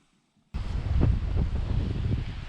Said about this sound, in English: We're getting hit by huge gusts of wind